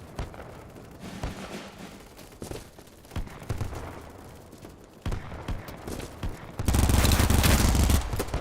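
Vector submachine gun firing in the shooter game BattleBit, bursts of rapid gunfire mixed with other battlefield shots, growing into a loud sustained volley near the end.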